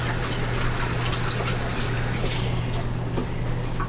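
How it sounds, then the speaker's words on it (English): Tap water runs steadily while mushrooms are rinsed, a close, continuous splashing stream over a low hum, with no talking. "I'm going to rinse mine off real quick"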